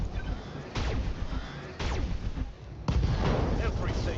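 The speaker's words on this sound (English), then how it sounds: "Internal inlet explosion detected." Heavy booming blasts go off in a BattleTech 3062 mech battle, three loud impacts with rumbling tails spaced a second or so apart amid ongoing combat noise, with voices talking partly underneath.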